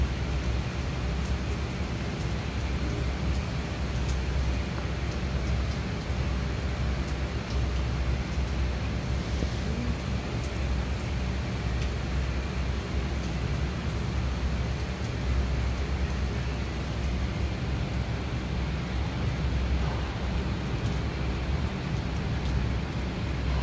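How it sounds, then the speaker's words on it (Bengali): Heavy rain pours outside in a dense, even wash of noise that stays constant throughout, with a deep low rumble underneath and no voices. "বাইরে মুষলধারে বৃষ্টি হচ্ছে"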